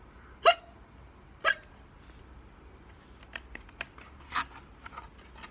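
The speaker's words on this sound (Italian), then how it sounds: "Questa mattina appena sveglio al lupo è venuto il singhiozzo" A string of sharp hiccups: two loud, distinct ones a second apart, then several fainter, quicker hiccup-like catches, alone with no talk, likely voiced as a wolf character's case of hiccups in a children's story.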